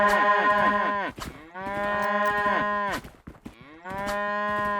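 A cow in the video game Morterra moos three times, each call long, loud and close, with brief gaps between them and no voices.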